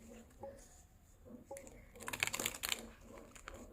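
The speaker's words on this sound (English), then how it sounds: "every time I shuffle this happens" A deck of tarot cards being shuffled by hand, heard as faint scattered riffles and then a dense burst of crisp flicking and slapping in the middle, with quiet room tone around it.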